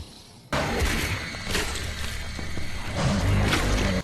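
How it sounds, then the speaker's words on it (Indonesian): A monster in a film crashes into a glass partition, giving one sudden loud smashing impact followed by several seconds of sustained crashing, rumbling and shattering noise. "monster itu mencoba menghancurkan kaca pembatas"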